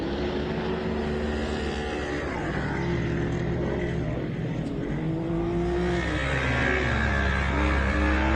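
Can-Am off-road vehicle racing toward the finish jump at an off-road race, engine revving hard with rising and falling pitch as it charges past, continuous loud motor drone with other engine noise behind.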